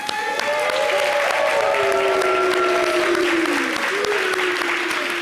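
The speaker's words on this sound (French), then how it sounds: "Merci de l'applaudir" Studio audience at a Congolese television variety show applauds after a performer's set, a steady, dense wash of clapping and crowd noise sustained throughout with a few cheers and whistles on top.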